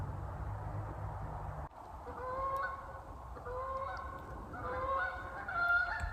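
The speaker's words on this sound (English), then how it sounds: "Okay, those are geese. Those are geese flying over." A flock of geese flying overhead, honking repeatedly, moderately distant, their calls overlapping and growing slightly louder over a rustling outdoor background.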